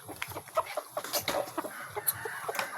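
Chickens cluck in quick, uneven bursts, close by, with several birds overlapping in a busy, scratchy chatter.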